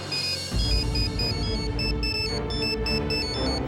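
A phone ringtone plays for an incoming call in a Telugu TV serial scene, a bright repeating melodic ring over a low background music bed, loud and up close, with no voices.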